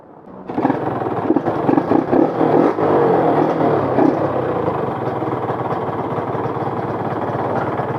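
A Yamaha TZR motorcycle engine kicks into life after a short start, then runs close and loud with a few rapid two-stroke revs before settling into a steady idle.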